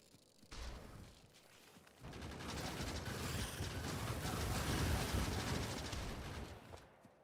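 Turrets firing rapidly in the factory-building game Factorio against worms, a dense rattling stream of shots swelling and holding at moderate volume, with mechanical clatter layered through it.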